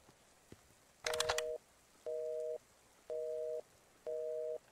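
In a horror video game, a quick burst of telephone dialing tones is followed by a busy signal: four evenly spaced, clear tone pulses over a quiet background.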